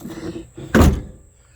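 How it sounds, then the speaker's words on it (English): The hood of a Buick Reatta with failed hood struts comes down in a single loud, heavy thunk, preceded by faint low movement sounds and followed by a short fade. "We're going to go ahead and close the hood because my struts don't work"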